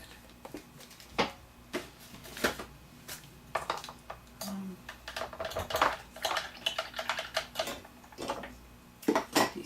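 A lid handled at an art table during mixed media background work gives scattered light clicks and taps, quiet and close, with no voices.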